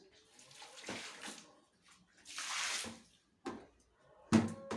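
Tap water runs and splashes in bursts during household cleaning, pausing between gushes, with a sharp clatter near the end; fairly close and moderately loud.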